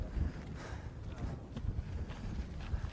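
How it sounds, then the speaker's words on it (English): Wind gusts at the top of a hill on a golf course, a low, buffeting rumble against the microphone that is fairly faint and unsteady throughout. "Very windy at the top of the hill here."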